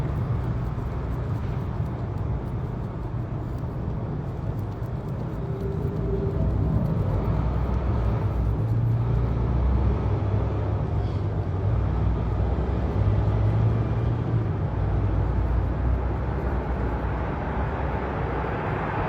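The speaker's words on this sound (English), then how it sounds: "Listening to the cars." Cars pass on a nearby road, a steady broad rumble of traffic that swells and fades as vehicles go by, with no voices.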